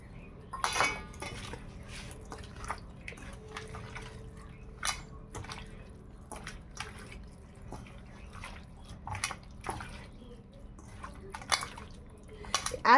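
Pieces of bhetki fish being worked into a spice paste in a bowl, with small scattered clinks of dishes and utensils and soft wet handling sounds coming in irregular bursts close by.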